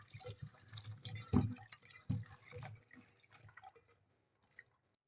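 Potatoes are swished and rinsed by hand in a bowl of water, giving soft sloshes and drips with a couple of louder splashes early on, fading toward quiet near the end.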